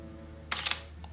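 A single-lens reflex camera on a tripod fires its shutter after a self-timer countdown: a quick burst of two or three crisp mechanical clicks, close and clear against a quiet hum, followed by a faint softer click.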